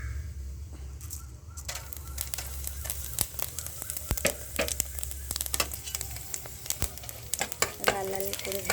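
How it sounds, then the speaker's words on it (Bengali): Bay leaves and panch phoron spices frying in hot oil, a continuous close sizzle broken by frequent sharp crackles and pops, with a low hum underneath and faint birdsong in the background. "দুটো তেজপাতা দিলাম, আর পাঁচফোড়ন দিয়ে দেবো।"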